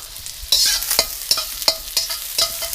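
Garlic hitting hot oil in a pan while cooking Pad Thai, a steady sizzle broken by repeated scraping stirs, close and loud with no talk.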